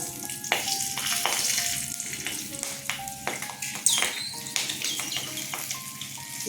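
Green chillies sizzle in hot oil in a kadai after fish frying, a crackling fry broken by repeated sharp spatters and stirring clinks of utensil against pan.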